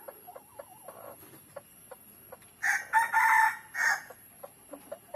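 A Northern Thai black-necked red-eared rooster lets out one loud, close crow amid soft, scattered clucks and pecking sounds.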